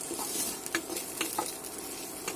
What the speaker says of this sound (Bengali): দেখো ঢেঁড়স ভাজা অল্প তেলে, খুব ধৈর্য ধরে ঢেঁড়সগুলো ভাজতে হবে, একটু সময় নিয়ে।